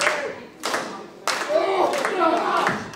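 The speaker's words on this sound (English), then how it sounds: "trying to draw energy from the crowd by getting them to clap along" A pro wrestling crowd claps along in a hall, a few broad bursts of rhythmic clapping mixed with crowd noise and voices during a live independent show.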